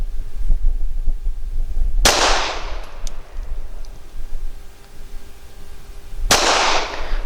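Two sharp, loud pistol shots from an SCCY CPX-3 firing Fiocchi 95 grain full metal jacket rounds at an outdoor range, spaced about four seconds apart with ringing decay after each.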